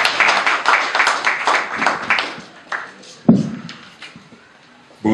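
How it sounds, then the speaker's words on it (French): Audience applause and cheering at a public gathering, a dense crowd burst that fades after a few seconds into scattered claps and quiet. "J'aimerais que nous puissions multiplier nos acclamations"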